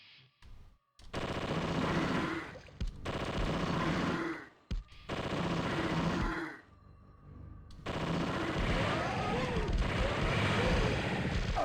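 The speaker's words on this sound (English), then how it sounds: "We're gonna use this chain gun." Chain gun fire in the Zombie Revenge arcade game, long dense bursts of rapid automatic shots broken by short gaps, loud and close, with game effects mixed in.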